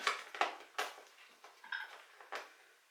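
A metal spoon clinks and scrapes against a cardboard box of Disney-themed socks as it is pried open, sounding as a series of about seven sharp, close taps and clatters in an irregular rhythm, with no one talking.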